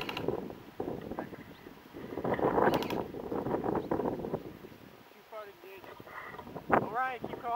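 Wind buffeting a microphone outdoors during an airsoft game, a steady rumbling roar throughout with people talking and shouting over it.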